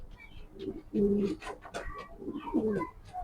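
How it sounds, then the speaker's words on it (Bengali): Expensive, high-quality maxi racing pigeons, including a male, coo clearly and close by in rolling, repeated phrases, with two stronger bursts of cooing separated by softer calls. "এগুলা অনেক দামি কবুতর এবং ভালো কবুতর"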